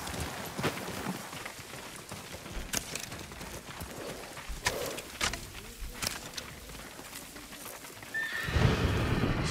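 Horse whinnies and hoof clip-clops in the video game Ghost of Tsushima, heard outdoors among birdsong and cooing doves, with a louder rustling burst near the end.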